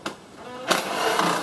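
A loud power tool whines while bolts come out of an engine bracket on a 2016 Prius engine being swapped into a 2012 Prius V, a short burst followed by a longer, louder, sustained run.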